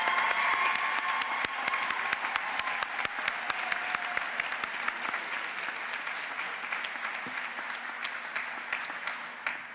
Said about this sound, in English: Please have one more round of applause as we congratulate them